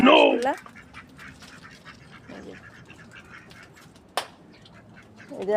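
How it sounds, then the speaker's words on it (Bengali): Local domestic ducks let out loud, close bursts of quacking at the start and again at the end, with quieter outdoor background noise and a sharp knock in between. "এখানে ওরা চলে আসছে দেশি হাঁস"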